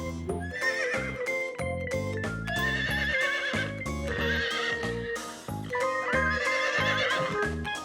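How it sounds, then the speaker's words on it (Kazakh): A horse neighs and whinnies again and again over upbeat music, with clip-clop hoofbeats in the mix. "Жылқы."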